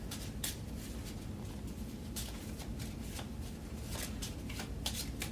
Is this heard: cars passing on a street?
no